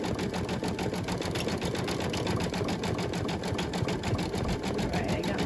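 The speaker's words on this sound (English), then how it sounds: "it's just the frame of the embroidery machine, the hoop rubbing against" An embroidery machine stitches a bee coaster at a steady, rapid rhythm, its hoop frame rubbing as it moves, producing a continuous close mechanical chatter with no pauses.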